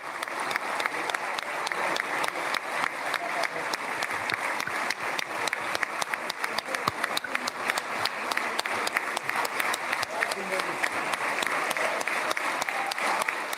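Sustained, dense applause fills the Knesset chamber as the US President enters, a large crowd clapping steadily and loudly for over ten seconds with no break.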